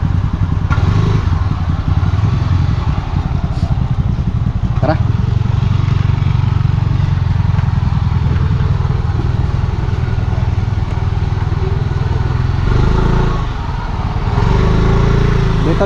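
A motorcycle engine runs steadily and loudly close by in the Philippines, with a continuous low rumble and a few clattering thumps while people talk over it.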